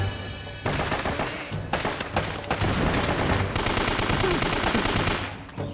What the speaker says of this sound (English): That's how many damn shots?